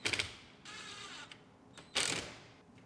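Interior cover being bolted into a Lexus IS250 AWD during a rebuild, heard as a few short ratcheting clicks and faint mechanical rattles in separate bursts, close and fairly quiet with no talk.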